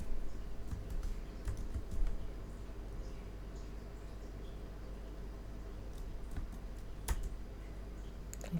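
Keyboard shortcuts typed in the nano editor on a server, soft quiet key taps in irregular bursts with a few louder clacks, close by and with no talk.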